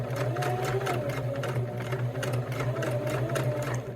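A sewing machine stitching rope into a coaster, running steadily and close for the whole stretch with a constant mechanical hum and rapid needle rhythm, no voices.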